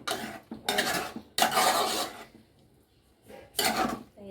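Egg bhurji is mixed and broken up in an oiled pan, with repeated bursts of scraping and clinking as a utensil works against the metal, separated by brief quiet pauses.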